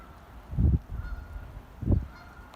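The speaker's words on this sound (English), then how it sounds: "I hear the geese." Two loud goose honks ring out about a second apart over soft wind noise, nearby and outdoors.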